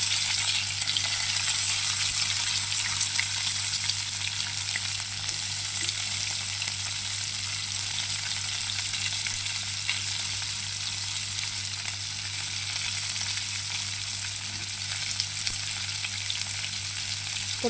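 Chopped green chillies and onions fry in oil in a pan for a Bombay chutney, giving a continuous close sizzle with faint stirring scrapes and no talking.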